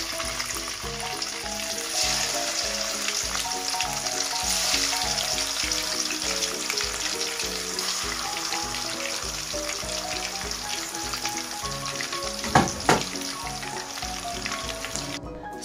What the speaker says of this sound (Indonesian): Setelah panas, goreng ayamnya.